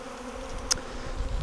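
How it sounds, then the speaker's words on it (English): Honey bees swarm near a hive, a steady close buzzing drone with one brief sharp click partway through. "So now you can see a whole lot of bees arriving here."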